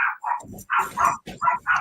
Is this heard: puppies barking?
yes